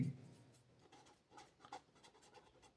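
Writing on a board during a class: faint, scratchy strokes in short bursts, quiet and close, with no talk.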